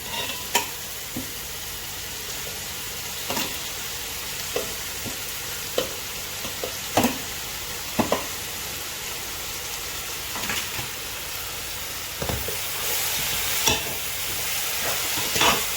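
Mutton biryani fries in a pot as a ground mint and coriander paste is mixed through it, a steady sizzle broken by occasional scraping strokes of the spoon.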